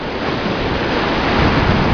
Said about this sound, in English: I'm getting close to the waves.